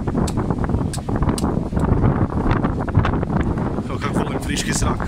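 Wind gusts outdoors buffet the microphone with a steady, rough low rumble that runs the whole time, while someone talks over it.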